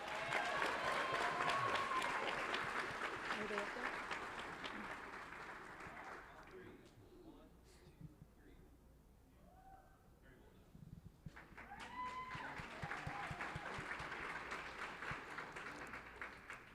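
A school board meeting audience applauds a student and his coach, clapping that fades to near quiet midway, with a brief voice and some movement before the applause swells again.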